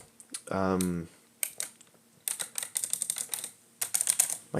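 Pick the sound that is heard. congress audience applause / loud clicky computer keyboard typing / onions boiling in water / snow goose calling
loud clicky computer keyboard typing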